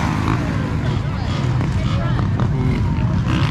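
Motocross bikes racing past at Little Okie Raceway, engines buzzing loudly and continuously from close range, with someone talking excitedly over them.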